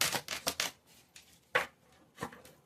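Gypsy fortune-telling cards are shuffled up close in quick, crisp riffling bursts: a fast cluster at the start, then softer flicks and two sharper snaps later on, with no talk over them.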